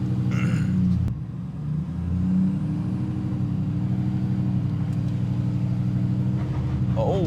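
A 2024+ Ford 6.7 Powerstroke diesel truck with a 587whp tune pulls up a small grade out of a shop, a steady loud low drone accelerating, heard from inside the cab.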